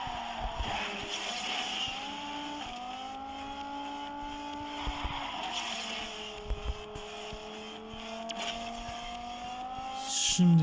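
Racing car engine in Asphalt 9 roaring under nitro boost, a steady loud whine shifting pitch upward in stages, with brief tire squeals and a sharper burst near the end.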